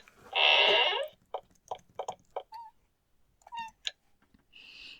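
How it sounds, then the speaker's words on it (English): Cat meows and squeaks in the game Blades of Exile: a long loud meow, then a string of short chirpy squeaks and a final mew, near and alone. "And my reward is cat squeaks."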